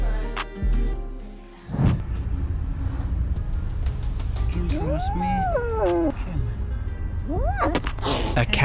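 An orphaned rescue cat that is afraid of people gives several distinct rising and falling meows, close and clear, over a background of music.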